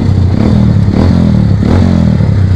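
A custom Kawasaki W175 cafe racer motorcycle engine thumps loudly and steadily while riding, its low rhythmic exhaust pulsing close up with slight rises and falls in revs.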